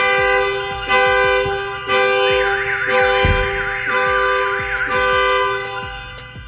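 A Viper car alarm blares after a car door is opened, a loud repeating siren that cycles through tone patterns about once per second and runs continuously close by.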